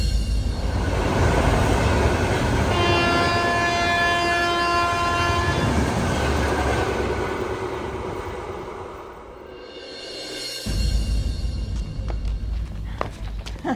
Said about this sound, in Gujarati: એ રેલગાડી હાલી આવે છે.